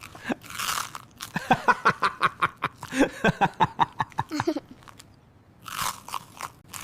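Loud, close crunching bites and chewing of burned toast, a rapid run of crisp crackles with brief pauses between bites, ending in a short quiet gap before another burst of chewing.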